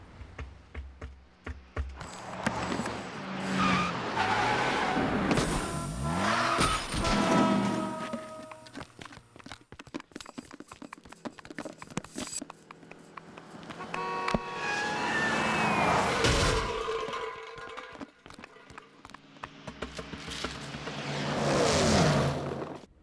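Film sound effects of a car wreck: cars rev, skid and roar past in a busy stretch of traffic noise, with tire squeals and clattering impacts building to loud bursts near the end.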